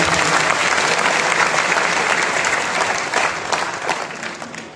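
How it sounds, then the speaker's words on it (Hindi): Dense audience applause in a Birla auditorium hall at a Devnarayan Jayanti event, welcoming honorees; steady broadband clapping throughout, tapering slightly toward the end with no talk over it. "सभी का ताली बजा करके आप स्वागत करेंगे।"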